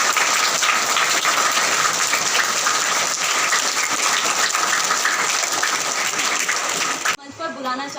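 A crowd at a Hindi Diwas 2023 school program claps loudly and continuously for the principal's poem, the thick applause holding steady for about seven seconds before stopping abruptly as a voice begins.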